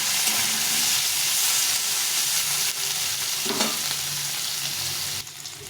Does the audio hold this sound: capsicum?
yes